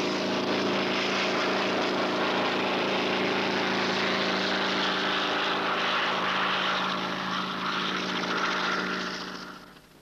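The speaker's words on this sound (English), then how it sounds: "The helicopter is just leaving with eight of the crew aboard." A helicopter departs an offshore drilling rig, a loud steady rotor and engine drone with harmonic hum that holds for most of the stretch, then fades at the end as it leaves.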